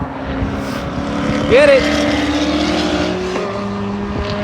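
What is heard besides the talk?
race cars, C7 Corvette and BMW, on Sonoma track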